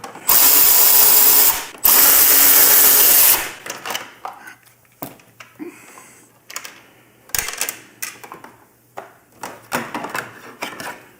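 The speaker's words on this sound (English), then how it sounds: "we're going to take out both of these bolts and remove these wings" A ratchet spins out Torx 25 bolts from the fairing wings of a Harley-Davidson Road Glide, two loud sustained bursts of rapid clicking up front, then quieter scattered clicks and handling taps.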